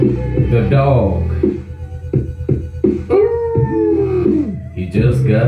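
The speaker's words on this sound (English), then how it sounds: "The dog." A dog howls in long, wavering, sliding tones, loud and close, with voices talking over and between the howls.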